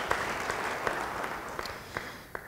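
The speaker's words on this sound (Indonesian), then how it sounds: "Yang percaya beri tepuk tangan bagi dia." A church congregation claps for a brief moment, a soft, distant patter of applause with a few sharper claps standing out over a low room hum.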